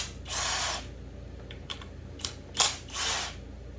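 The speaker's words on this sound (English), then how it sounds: "Take them 2 screws out." Screws are backed out of a McCulloch 850 chainsaw, with a few close, faint ratcheting bursts and small metallic clicks separated by quiet gaps, and no speech.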